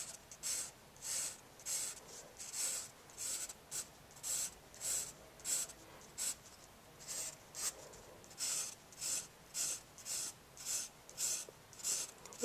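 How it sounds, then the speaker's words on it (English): A pencil scratches hatching lines on paper in regular, rhythmic strokes, each a short rasping swish close to the listener, repeating about twice a second with brief pauses. "I'm still going to use my lighter pencil with closer lines"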